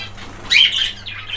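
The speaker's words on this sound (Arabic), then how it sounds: "هذا احد الطيور بلاك فيس" A black-face ornamental finch flutters its wings in a quick, close burst, followed by a softer second flurry over a quiet room hum.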